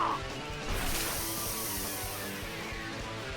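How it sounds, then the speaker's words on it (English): An axe crashes down as a visual novel game sound effect, a loud broad smash with a whooshing rush that fades slowly into a sustained roar like howling wind. "his axe is already crashing down with the wind howling in its wake"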